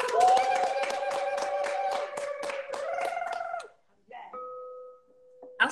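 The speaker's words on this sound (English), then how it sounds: "Let's clap it up globally." Rhythmic clapping from the group at a holistic couples therapy sacred circle, mixed with sung or chanted voices, runs for several seconds, then stops abruptly, leaving a few short tones and a sharp sound at the end.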